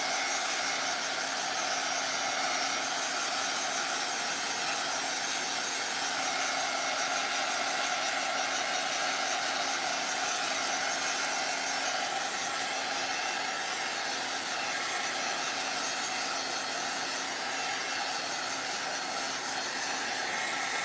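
A hair dryer blows a constant, loud, even whoosh with a steady motor hum throughout as it dries fresh paint, with no speech.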